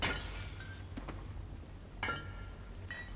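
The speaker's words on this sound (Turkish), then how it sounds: "O cam da kırılmazmış. Yok kırıldı pardon." Glass shattering in the stealth game Dishonored: a few brief, faint crashes and tinkles spread across a quiet stretch, with no voices.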